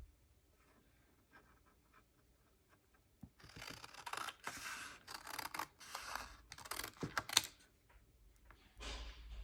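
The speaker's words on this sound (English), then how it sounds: "So I'm just going to snip that off." Scissors snipping the end off a paper page of an accordion fold journal, close crisp cutting and paper rustling in irregular bursts, preceded by quieter handling.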